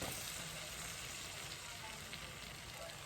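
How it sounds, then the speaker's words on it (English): Onions sizzle steadily in a frying pan while honey butter garlic chicken is cooked, a dense, even hiss that runs uninterrupted at moderate level. "Next, I'm going to add my onions."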